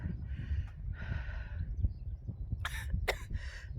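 A woman coughing just after stopping a run on a steep, windy hill among fields, a few rough coughs and throat sounds close by over gusty wind noise.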